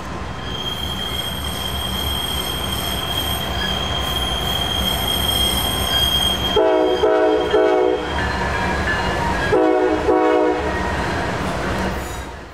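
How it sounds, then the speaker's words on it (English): A Norfolk Southern freight train rounds Horseshoe Curve loudly with sustained high-pitched wheel squeal, rumbling cars and intermittent bursts of screeching, continuous and close throughout. "NS 590 would be our first train to round the famous Horseshoe Curve"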